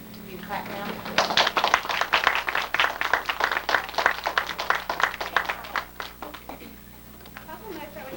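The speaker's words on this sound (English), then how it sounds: "You clap now." Audience applauding at a home family play, a dense burst of many hands clapping that swells quickly, holds for several seconds and then fades out, with voices in the room near the end.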